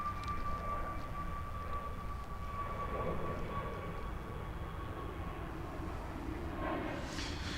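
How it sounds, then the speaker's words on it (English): An American Airlines Airbus A319 at DFW International Airport, a low steady engine rumble with a thin sustained tone above it, distant and fairly quiet, brightening slightly at the end, no talking. "It's another Airbus A319."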